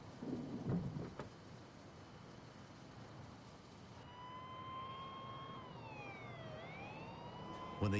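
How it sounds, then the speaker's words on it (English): An emergency vehicle siren rises and falls in the distance over rain and a low rumble of thunder during canal flooding, after a brief burst of noise at the start. "Hearing the sound of sirens"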